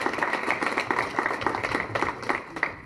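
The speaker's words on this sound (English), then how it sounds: "give yourselves a round of applause for helping to make this possible" Crowd applauding at a health center grand opening ceremony, a thick continuous patter of many hands at moderate volume that holds steady for a few seconds without speech.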